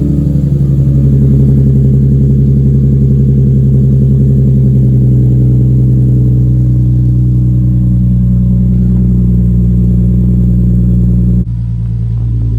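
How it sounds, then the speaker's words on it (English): Loud, deep exhaust rumble from an idling car, steady and close, with a brief drop in level near the end. "It's got so much more rumble to the exhaust instead of just loud raspiness"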